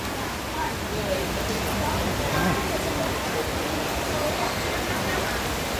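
Heavy rain pours outside a vegetable market in Guangzhou as a dense, steady roaring hiss filling the whole stretch, with faint voices barely present beneath it.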